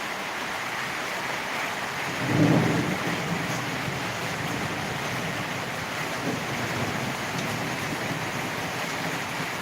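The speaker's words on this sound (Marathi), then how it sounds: "आबाळ गरजत आहे विजांचा कडकडाट होत आहे आणि मुसळधार पाऊस वाहत आहे" Constant roaring downpour over a village temple fills the clip, with one short low thunder rumble early on standing out briefly above the steady wash of rain.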